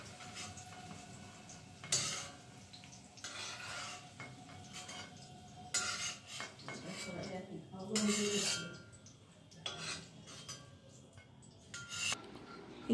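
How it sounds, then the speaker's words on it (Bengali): Fried cashew, onion and green chilli mixture being transferred from a pan onto a plate with the gas turned off, giving light clinks and scrapes of utensil against dishes scattered across the moment, close and fairly quiet. "এবার আমি গ্যাসটা অফ করে দিলাম আর এই ভাজা সামগ্রীটা আমি একটা প্লেটে তুলে নিচ্ছি"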